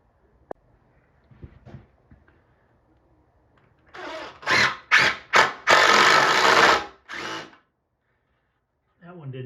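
A power drill bores screw holes while a basement wall is being framed, with several short loud whirring bursts in quick succession followed by one longer run, after quiet handling noises and brief talk.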